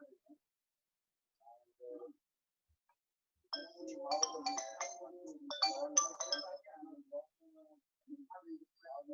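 A phone ringtone plays for a few seconds, a bright electronic melodic burst standing out from near silence, with brief quiet speech fragments before and after.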